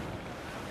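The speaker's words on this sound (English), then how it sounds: "But this wind is insane." Wind and ocean waves in the pirate video game Assassin's Creed Black Flag make a steady, broad rushing roar of gusts and surf, continuous and fairly faint, with no voices.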